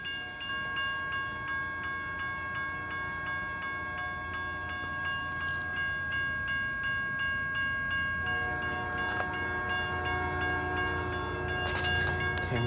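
A westbound CN freight train rumbles past at night on the Flint Subdivision, a steady loud roll with sustained horn tones and rail clatter building toward the end, with no talking.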